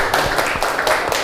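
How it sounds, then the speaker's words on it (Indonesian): A small group of people claps briefly, a close, loud burst of a few sharp overlapping claps in quick rhythm, cut off after about a second. "Beri tepuk tangan untuk kelompok"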